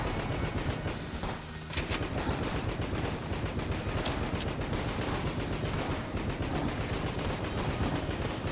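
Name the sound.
continuous explosions and gunfire in video game Enter the Gungeon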